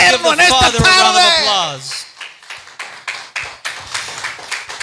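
A church congregation starts clapping right after a voice finishes speaking, and the applause runs as a sparse, moderately loud patter of hands to the end.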